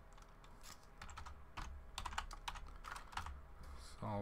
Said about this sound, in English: what I'm going to do is I'll type it out